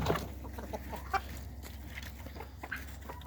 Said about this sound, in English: Right here we can see the chickens